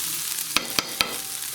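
Onions put back in with beef fat and meat for a patty melt fry with a steady close sizzle, while three quick stirring scrapes of a spatula cut through at even intervals.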